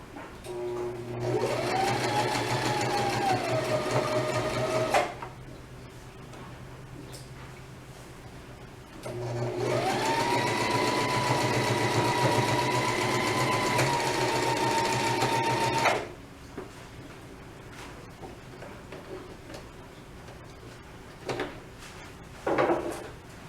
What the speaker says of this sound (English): I'm going to do a little back stitch over the handles just to make sure it's in there good